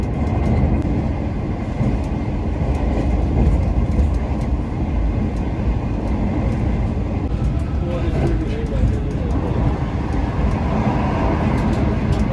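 The Shalimar Express rolls steadily along the rails with a constant loud rumble and faint rhythmic clicks, heard from inside a passenger car for the whole stretch.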